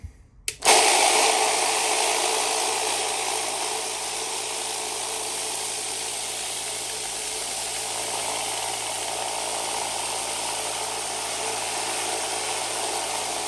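A rock tumbler loaded with quartz and a tablespoon of borax runs steadily, a constant whirring, grinding rumble with a continuous wash of tumbling stones that starts abruptly and holds at an even level.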